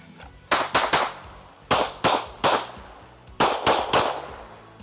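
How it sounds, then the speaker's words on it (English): Kimber 2K11 Pro 4-inch pistol fired in three fast bursts of sharp, loud reports, each shot snapping out with a short decay, with brief pauses between the strings of shots. "I'm going to step on the gas and shoot it a lot faster."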